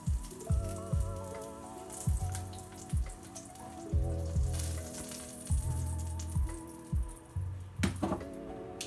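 Hotdogs frying in a pan of oil give a constant bubbling sizzle with spattering pops, under steady rhythmic low thumps and a faint tonal background hum.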